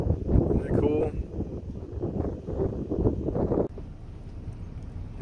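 Strong wind buffets the microphone outdoors in Uncertain, Texas, a loud, rough low rumble under a man's speech that cuts off abruptly, leaving quieter gusting.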